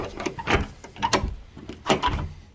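Wooden under-deck storage door on a newly built DIY deck being swung and shut, giving a few sharp knocks and thuds with brief rattles in quick succession, close by.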